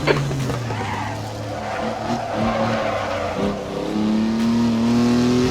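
A 1959 Mk2 Jaguar races around the Donington Park National Circuit in the racing game Assetto Corsa. Its engine drones and shifts pitch up and down through corners, and tires squeal loudly and continuously under the engine.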